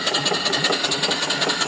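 A live steam mill engine with a flyball governor, about 20 inches high and wide on a wooden base, runs smoothly with a steady, even rhythmic chuff close by and no talking.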